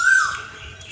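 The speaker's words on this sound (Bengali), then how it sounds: "আর পাখির ডাকও শোনা যাচ্ছে" A bird in a large botanical garden gives one short, sharp squawk up close, followed by a quieter outdoor background.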